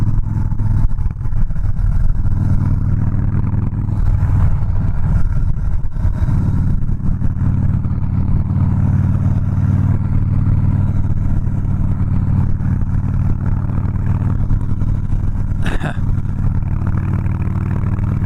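A Harley-Davidson Softail Slim with the 103ci engine pulls hard in a continuous, loud, close engine roar with rumbling low drone and wind-blown texture throughout, building without a break.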